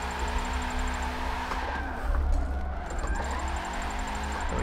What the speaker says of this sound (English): Some little clutch kick pops.